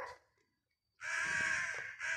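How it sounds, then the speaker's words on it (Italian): Crows caw loudly and close by at the Certosa di Ferrara in a sequence of harsh, rasping calls. A short faint call comes first, then a pause, then two long raucous caws with no speech over them. "anche le cornacchie"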